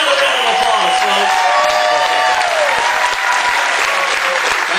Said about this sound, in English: Give him another round of applause, folks.